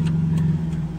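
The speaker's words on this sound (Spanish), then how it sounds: "Ahí ya empezó a mover el carro y dejamos el clutch ahí" A manual car's engine hums steadily at low revs as the clutch is eased out and the car begins creeping backward in reverse, a close, continuous drone with no talk.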